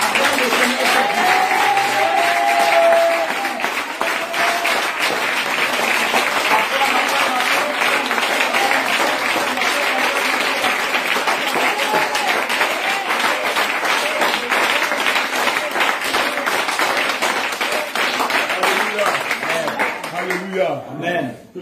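A church congregation at an evening prayer service applauds and cheers continuously, a dense, loud wash of clapping and crowd voices that fades out at the end.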